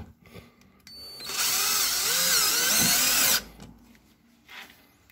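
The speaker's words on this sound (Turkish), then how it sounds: "Daha sonra vidalama işlemini yapıyorsunuz." A cordless power drill drives a screw into a mosquito net frame in a single sustained two-second whir, close and loud, with its pitch wavering under load, set between quiet handling noises.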